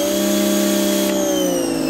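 A wall-mounted pressure washer runs with a steady, loud motor whine and a constant tonal hum, with no pauses.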